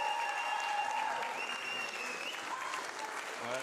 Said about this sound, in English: Well received and well-deserved applause from the team of Jakk Sellstrom, Martin Kirby, CJ Rawlings, Steve Valentino